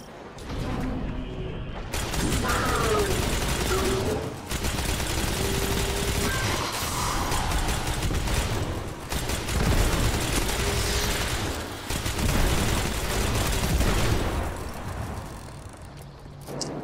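Gunfire from a gun in Destiny 2 rattles in dense, continuous bursts under loud game noise, with short gaps between volleys and a steady high level throughout.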